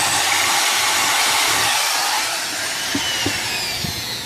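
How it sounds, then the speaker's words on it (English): A loud, continuous whine of a power drill boring holes into wooden set wall panel flats, steady throughout with a few brief knocks near the end. "we ought to just go ahead and drill the sides of the flat too"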